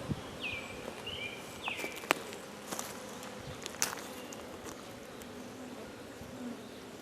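Honey bees buzz at an open hive during an inspection, a dense steady hum close by, with a few sharp clicks and brief higher whines over it.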